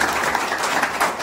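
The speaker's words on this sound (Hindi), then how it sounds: "जोरदार ताली बजाइए।" A crowd of students in a classroom gives a brief burst of steady, dense applause that fills the space, with no one speaking over it.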